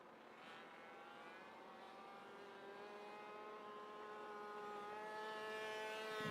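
A Kawasaki racing motorcycle engine drones at a distance, holding a steady harmonic whine that gradually swells louder as the bike approaches during a TT race.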